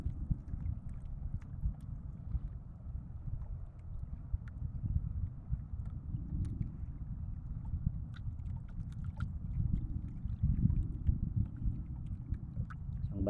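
Rough sea water sloshing and slapping against a boat hull with constant low rumbling wind noise, steady and close throughout, no talking, off Mercedes, Camarines Norte.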